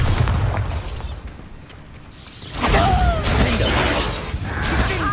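A Bombarda spell blast goes off in the Hogwarts Legacy video game: a loud booming burst with crashing, shattering debris, then a rumbling tail and scattered clatter, standing alone without talk.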